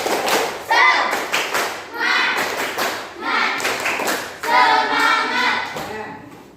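A primary school class claps in quick rhythmic patterns, bursts of clapping alternating with short pauses, with children's voices mixed in.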